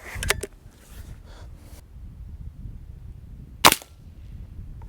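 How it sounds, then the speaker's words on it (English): A Diana AR8 N-TEC .22 air rifle fires, a couple of sharp, snappy shots close by, one near the start and one louder crack later, separated by quiet room tone. "Okay, I'll take a couple more shots here."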